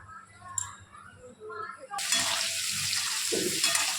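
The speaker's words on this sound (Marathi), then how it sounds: "थोडीशी हळद आणि लाल तिखट घालून अंडे थोडेसे हलकेसे फ्राय करून घ्यायचे आहेत." Eggs frying in hot oil with turmeric and red chili in a pan for an egg curry; a loud, steady sizzle bursts in halfway through and continues, with faint clinks of stirring before and during it.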